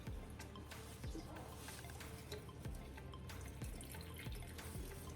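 Water runs steadily from a tap into a sink, a continuous splashing trickle with small drips and clinks, close by and without talking.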